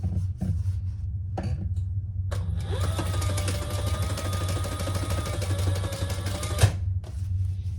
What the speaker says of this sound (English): I'm going to top stitch on the bottom piece with the seam allowance going down